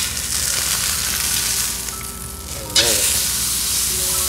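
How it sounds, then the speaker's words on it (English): Steak searing in a hot pan after a flip, giving a steady, loud broadband sizzle throughout, with a brief sharp jolt of spitting and crackle near the end. "All right, gotta flip the steak now."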